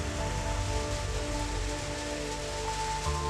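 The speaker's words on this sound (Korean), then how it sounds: "시원스레 쏟아지는 빗줄기를 차곡차곡 모아줍니다." A rain shower pours steadily, a dense even hiss of falling water with a faint hum running underneath.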